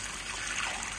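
Water poured steadily into a greenhouse bottom-watering tray, a faint, continuous trickling splash with no voices.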